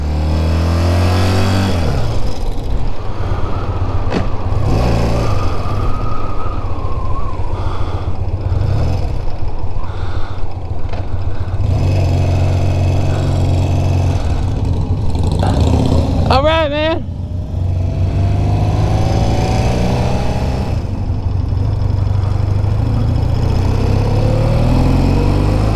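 An older BMW motorcycle is ridden with a steady engine drone, shifting revs and wind rush, while people talk over it for much of the ride.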